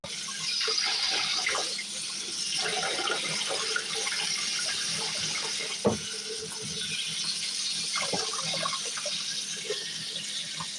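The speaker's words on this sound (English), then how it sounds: "My maid's going to rinse this jar." Running tap water pours steadily as a jar is rinsed under it at a home kitchen sink, a continuous close splashing hiss with a few brief knocks of glass.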